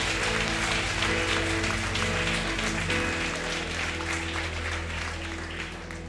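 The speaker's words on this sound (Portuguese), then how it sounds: "Se é para aplaudir o Senhor, aplauda forte, querido." A church congregation applauds the Lord, steady clapping over a sustained organ-like musical drone that holds underneath the whole time.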